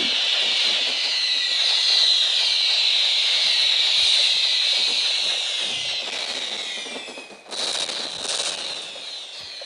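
Dense crackling and popping bursts of fireworks in a video game, a sustained sizzling barrage that thins out briefly near the end before flaring again.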